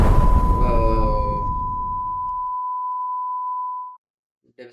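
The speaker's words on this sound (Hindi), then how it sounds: "पैनासोनिक अलार्म अपने लास्ट सेकंड काउंट करता है" A Panasonic alarm sounds a single steady, clear electronic tone that holds for about three seconds and then cuts off abruptly, rising out of fading rumbling noise at the start; a faint brief sound follows after a moment of silence.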